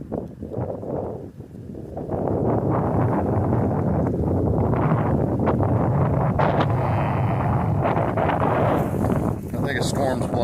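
Strong wind gusting outdoors as a storm moves in, a steady roaring rush buffeting the microphone for most of the stretch, with faint rustling and voices underneath.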